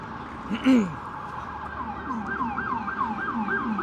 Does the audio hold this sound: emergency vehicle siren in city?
yes